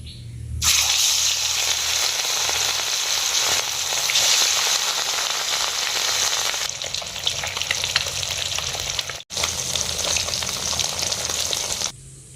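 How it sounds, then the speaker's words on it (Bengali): Masala-coated rohu fish pieces fry in hot oil in a pan, giving a loud, continuous sizzle and crackle with occasional stirring and one brief break near the end. "এইভাবে আমি সব কটা মাছ ভেজে নেব।"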